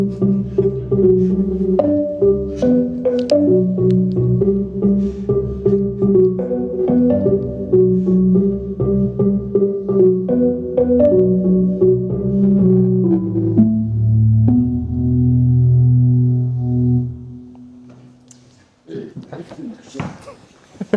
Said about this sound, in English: That was the sound of the M1.